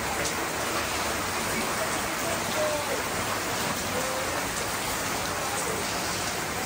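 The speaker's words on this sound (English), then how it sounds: "We're still going even though it's raining." Steady rain falls outdoors on a mountain in the Philippines, a constant close wash of noise with no voices and no breaks.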